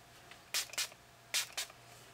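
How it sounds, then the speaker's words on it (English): ColourPop All-Star Face Setting Spray is spritzed from a pump bottle in two quick pairs of short hissing bursts, close and fairly soft, with no talk. "I'm going to try the ColourPop All-Star Face Setting Spray."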